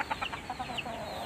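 Mother hen clucking softly near her two small chicks on a mountain farm, with short, close, irregular clucks and faint peeps spread across a quiet moment.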